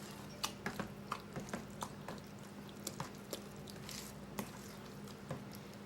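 Soft wet squishing and dripping sounds repeat in an irregular rhythm as beaten eggs are mixed into thick cornbread dressing in a bowl, close and fairly quiet.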